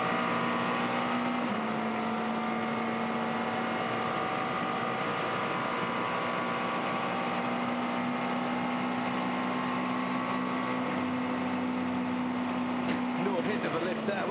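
McLaren 12C GT race car running flat out down Conrod Straight at Bathurst during the 12 Hour race, a steady sustained engine drone with a constant pitch, heard continuously and fairly distant under background noise.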